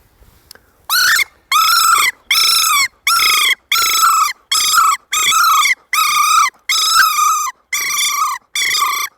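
Dan Thompson BD1 predator call blown with a rolled tongue to mimic bird distress, a loud series of about eleven raspy, fluttering squawks in a steady rhythm, close and alone with no talk.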